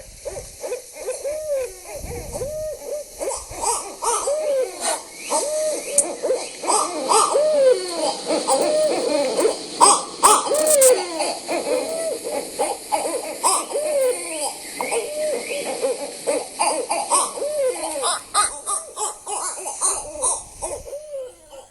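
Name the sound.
barred owl call played as a recording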